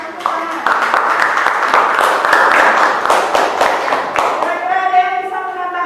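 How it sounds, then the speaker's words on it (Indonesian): Class of students applauding a group presentation, a few seconds of brisk, fairly loud hand claps, with a voice speaking as the clapping ends. "Ya, bagus sekali berikan tepuk tangan."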